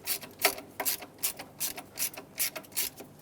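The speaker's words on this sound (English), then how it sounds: "These are going to have to cut new threads into the plastic as you screw them in." Coarse threaded screws cut new threads into a plastic intake manifold on a Ford F250 Super Duty 5.4L V8, giving a steady run of close, rhythmic ratcheting clicks, roughly two or three per second, with no talking.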